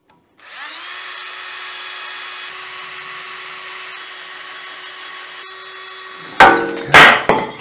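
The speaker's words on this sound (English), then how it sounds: "we're just gonna drill out these retainer bolts" Power drill boring out retainer bolts on a BMW M3 Competition, a steady high whine running for several seconds close by, then stopping, followed by a couple of sharp loud metallic clatters.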